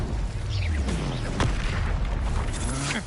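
Incendio fire spell cast in Hogwarts Legacy on PlayStation, heard as a loud, dense burst of fiery whooshing and booming blasts, with sweeping tones and swelling low rumble running continuously through a busy combat mix.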